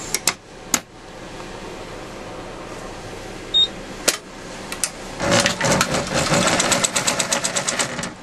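Sewing machine stitching a seam in fabric, a brief whir after scattered clicks and knocks, then a fast, close rattling run of stitches building for the last few seconds, with no talk.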